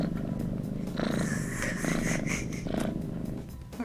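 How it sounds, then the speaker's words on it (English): A cat purrs in the video game Lovingly Evil, a continuous rumbling drone that swells and eases in slow waves, close and steady, with no speech. "What great purring."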